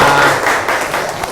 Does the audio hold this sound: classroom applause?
yes